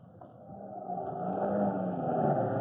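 The Chief's car drives off with a smooth engine whir that builds in loudness and pitch as it pulls away, moderately close and with no voices.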